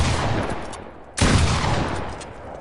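Rapid gunfire in Fortnite aimed at a build ramp, a dense burst of loud shots, a brief lull, then another hard burst that trails off.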